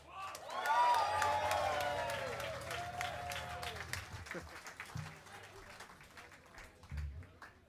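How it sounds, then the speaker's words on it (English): An audience at a live show near WWDC 2024 applauds and cheers a performer, the crowd noise swelling early and then thinning, with voices talking and calling out over the tapering claps. "a giant round of applause for Pavan"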